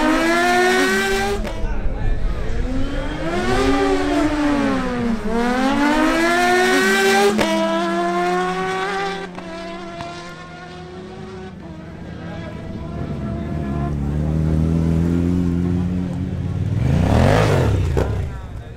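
Kawasaki ZH2 and Kawasaki Ninja ZX-10R motorcycles rev hard at a drag race, their engines climbing and falling in pitch through repeated loud sweeps, then fading and surging again near the end.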